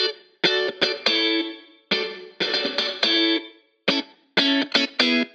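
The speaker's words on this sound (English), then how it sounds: "so it adds a nice slap delay characteristic to the guitar" An electric guitar plays short chopped chords and riffs through a slap delay, a short vintage reverb and a phaser, loud and close, in several bursts with brief gaps between them.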